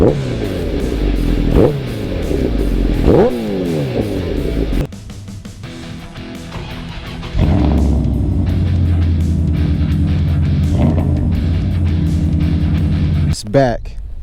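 An 1100 motorcycle engine idles loudly, then revs up and down a few times, the pitch rising and falling with each blip of the throttle, close by.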